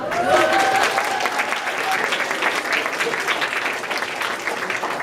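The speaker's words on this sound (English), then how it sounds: "Let's hear a round of applause." An audience breaks into a round of applause, steady clapping that stays fairly loud and fades slightly toward the end, with voices faintly audible underneath.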